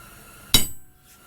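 A single sharp hammer blow on a center punch, marking a starting point on metal for drilling, rings briefly and close, then fades into quiet.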